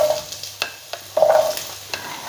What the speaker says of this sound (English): I'm going to fry the onion.